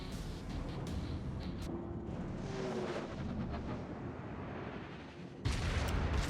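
A battleship's main guns fire a salvo in World of Warships, with a Montana firing at a Yamato and a Moscow. A long, low rumbling roar builds and holds, and a heavier booming burst breaks in near the end.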